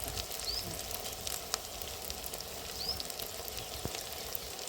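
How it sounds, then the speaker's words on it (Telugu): Ginger fries in a pan for a village-style curry, making a steady moderate sizzle with faint crackles and the occasional stir. "అల్లం వేగింది కదండి"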